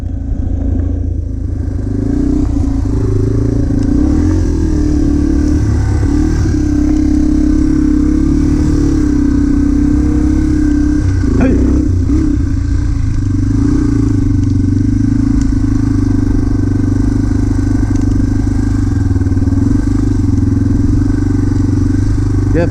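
A motorcycle engine runs steadily throughout a ride out of Boise, Idaho, a loud continuous low drone with slight rises and a few clattering bumps, close and dominant for the whole stretch, no voice audible over it.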